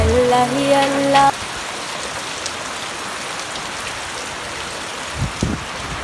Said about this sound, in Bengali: প্রচুর বৃষ্টি